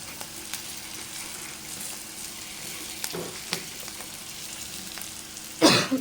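Spices and fresh curry leaves fry in hot oil, a steady soft crackling sizzle with scattered pops, ending in a loud burst of spitting as more goes into the pan.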